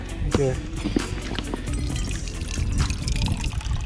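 Water pours and trickles into a cup for a drink outdoors on rocks during a mackerel fishing trip in Gaspésie, a steady liquid splash running throughout with a few brief vocal sounds on top.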